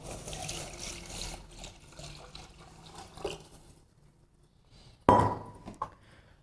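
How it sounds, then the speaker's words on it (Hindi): Milk pours into a pot of simmering ginger tea with a soft trickling splash, followed by a few clinks of metal or glass and a brief louder clatter near the end, without speech. "और अब हम इसमें दूध डाल देंगे"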